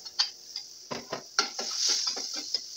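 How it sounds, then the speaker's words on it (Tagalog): Garlic and onion being stirred into hot oil and butter in a pan for chicken liver adobo, with a soft sizzle under repeated scraping and clinking of a utensil against the pan, close by. "imi-mix natin yung oil at saka butter. At next, ilagay natin yung bawang at saka sibuyas"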